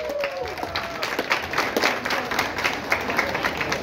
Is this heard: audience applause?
yes